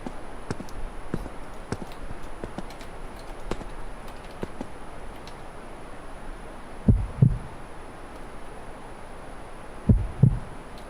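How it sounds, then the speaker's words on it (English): Heartbeat effect in a horror video game while the player is hiding, a few low thumping pulses, in pairs near the end, under a steady hum with faint clicks. "You can ensure that you're hiding when you hear a heartbeat sound."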